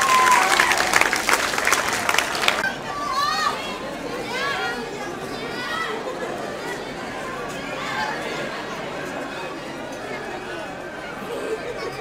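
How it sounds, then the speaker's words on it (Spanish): An audience at the ECOM Sci-Fi 2013 convention breaks into a loud burst of applause and clapping for a couple of seconds, then settles into a busy murmur of crowd chatter and voices. "aplauso grande, enorme,"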